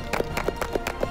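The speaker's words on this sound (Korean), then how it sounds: "박수!" An audience claps in quick, even rhythm for a student during an Incheon street program, making a short, steady burst of close applause.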